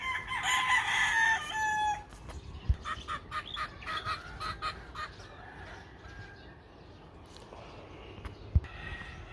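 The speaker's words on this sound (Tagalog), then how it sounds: "Chickens." A rooster crows loudly near the start, then chickens cluck and call in short bursts at a farm animal area, with a couple of sharp knocks and quieter background rustling.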